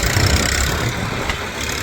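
A tractor engine idles on a farm while fertilizer is being loaded, a loud, close, steady low rumble that holds unbroken throughout.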